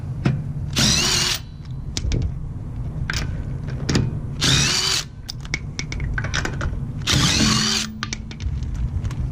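An impact power tool whirs and rattles in three loud bursts, spinning lug nuts loose from a Honda Odyssey wheel, with quieter mechanical clatter between them.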